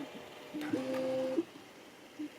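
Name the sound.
3D printer running bed leveling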